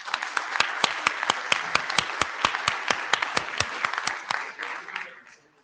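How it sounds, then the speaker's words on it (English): Conference audience applauding its speakers, a fairly sparse crowd with distinct, rhythmic claps at moderate volume that thin out and fade away near the end. "let's give a round of applause for all of our speakers today"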